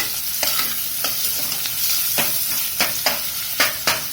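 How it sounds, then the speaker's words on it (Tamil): Crushed garlic sautéing in a pan for capsicum rice, a close, bright sizzle punctuated by repeated sharp scrapes and clacks as a spoon stirs it roughly every half second, with no voices. "பூண்டில் இருக்கிற பச்சை வாசனை போற மட்டும் நல்லா கொஞ்சம் வதக்கிடுங்க"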